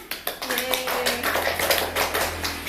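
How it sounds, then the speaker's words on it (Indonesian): Students in a classroom clap briefly, starting with a few sharp separate claps and then a short burst of brisk clapping, with voices chattering over it. "Betul, tepuk tangan."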